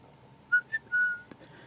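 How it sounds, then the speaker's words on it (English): High-pitched whistle at a scale-model workbench while building a Takom 1/35 Chieftain Mk10 tank kit: three short tonal bursts in quick succession, fairly faint, with no talk. "I got a little whistle"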